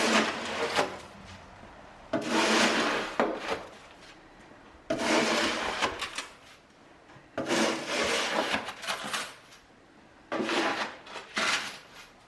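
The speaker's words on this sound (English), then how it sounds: "So we're going to sand those down." Wood panels with filled nail holes are sanded in four long, rough rasping bursts, each about two seconds, separated by short quieter gaps. The sound is close and fairly loud, with no talk.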